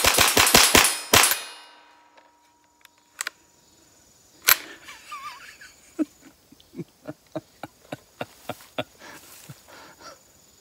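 Rapid .22 LR shots from a Ruger rifle firing Aguila ammunition indoors: a fast volley of sharp cracks at the start, a few isolated shots, then a steady string of softer evenly spaced pops.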